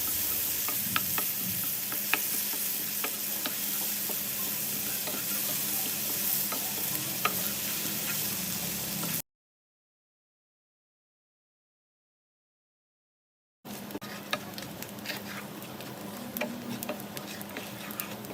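Ground spice paste for sour-sweet hog plum pickle sizzles steadily as it is fried and stirred in a pan, cut by a few seconds of total silence before the frying resumes, with no one talking.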